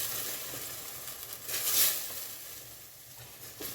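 Beef and carrots being stirred in a pot, a continuous sizzling hiss that swells midway as the contents are turned, then settles back to a steady fry.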